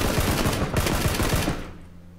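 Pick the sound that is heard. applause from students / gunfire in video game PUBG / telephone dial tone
gunfire in video game PUBG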